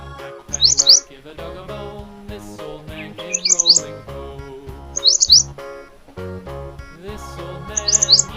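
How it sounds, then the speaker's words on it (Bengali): Bulbul chirps in short, high bursts four times at a steady interval, layered over a busy musical backing track in a Bengali children's alphabet song. "বয়ে বুলবুলিটির মুখটি কালো।"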